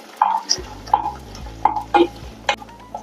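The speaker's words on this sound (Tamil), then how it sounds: "சின்ன வெங்காயம் ஒரு கப்பு கொட்டிக்கலாம்" A cup of small onions sautés in a pan for a dried-fish curry. A spoon strikes and scrapes the pan in roughly seven sharp strokes over a soft sizzle, close and clear, with no talking.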